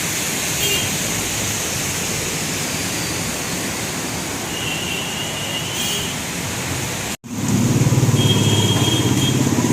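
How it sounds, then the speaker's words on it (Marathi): Heavy monsoon rain pours steadily as a dense, loud hiss, with the texture shifting after a brief cut and continuing strong to the end. "खूप जोराचा पाऊस आहे"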